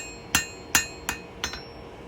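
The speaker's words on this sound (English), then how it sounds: "Light blows, just planishing, knocking the hammer marks out" Four light hammer blows planish high carbon steel during free forging, each a sharp ringing clank with a short metallic decay, spaced roughly evenly about a third of a second apart, close and clear with no talk.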